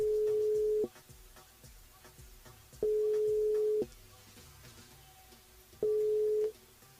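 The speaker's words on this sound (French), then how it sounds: "Yo Anna sur le standard." Telephone line tone during a French radio show call to a listener: three steady, clear tone bursts about a second long at regular intervals over faint background sound, with no talk.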